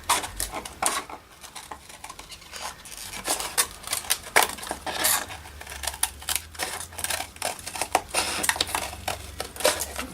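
Scissors or a blade working through canvas in a steady run of close, rough snips and crunchy rasps, irregular and continuous over several seconds.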